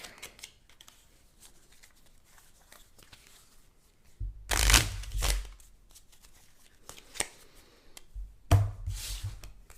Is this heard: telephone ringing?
no